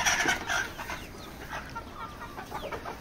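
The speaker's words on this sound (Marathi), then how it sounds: "हे बघा, खूप छान अशा कोंबड्या आहेत आपल्या." Desi village hens on a poultry farm cluck in short repeated calls, fairly near, over a steady background hum, with no one speaking.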